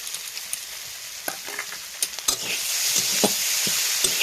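Garlic, ginger, turmeric and chili powder fry in a pan with a steady close sizzle, broken by several sharp scraping stirs of a spatula; no one speaks.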